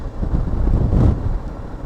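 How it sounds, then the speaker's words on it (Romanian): Crosswind buffeting a motorcycle rider's helmet on a small road, a loud rumbling gust that swells toward the middle and then eases, with no voices. "iară bate un vânt lateral"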